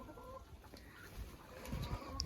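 Faint clucking from a few chickens, distant and sparse, with soft rustling and scratching in a quiet outdoor setting.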